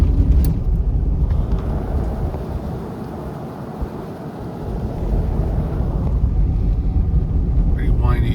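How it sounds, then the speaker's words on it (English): Steady, heavy wind roars and buffets the microphone throughout, easing slightly midway before gusting loud again. "Pretty windy."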